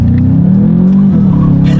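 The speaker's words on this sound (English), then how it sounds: "Let's test out the acceleration along with the paddle shifters, and we'll see how quickly we can get this turbocharged 4-cylinder here up to speed." A 2019 Volkswagen Jetta GLI's turbocharged 4-cylinder drones loud and close from inside the cabin, its engine note rising steadily under acceleration through the DSG gears.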